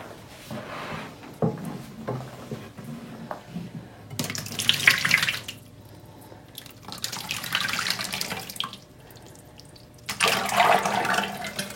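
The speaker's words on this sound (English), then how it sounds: "we're going to pour this beautiful orange soap that's going to go back to a beautiful yellow color into its mold" Melted orange soap pours from a pot into a mold, making a soft, wet, trickling and splashing sound in a few separate pours with quiet gaps between them.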